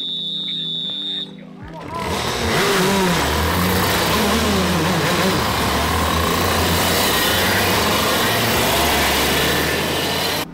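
Shifter karts racing at a karting track, their engines buzzing loudly and continuously with rising and falling revs as they pass, a dense mechanical roar after a quieter opening moment.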